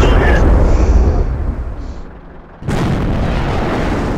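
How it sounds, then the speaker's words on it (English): A T34 tank in the World of Tanks video game fires a high explosive round: a loud, close roaring blast that fades over a couple of seconds before another heavy burst of noise suddenly hits and holds. "So I'm just going to throw a high explosive round."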